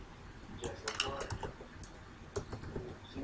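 Fingers tapping a computer keyboard in uneven bursts of quick clicks, close but quiet, with pauses between runs of keystrokes.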